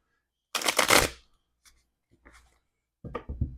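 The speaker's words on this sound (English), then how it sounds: "give it a quick little shuffle here" A deck of cards gets a quick riffle shuffle, one dense burst of flicking and fluttering followed by a few soft taps and a second short shuffle near the end, close and clear with no talk.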